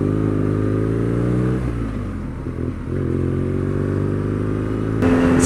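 A 2019 BMW R nineT Scrambler's boxer engine runs with a steady, loud droning hum, briefly easing off mid-ride before pulling again and rising at the end.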